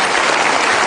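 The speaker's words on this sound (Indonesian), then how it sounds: "kenapa tepuk tangan riuh rendah?" Loud, dense audience applause filling a hall at a presidential event in Indonesia, a steady roar of many hands clapping at once, brief and close.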